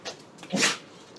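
A short, sharp dog sneeze, close and fairly loud, preceded by a faint snort.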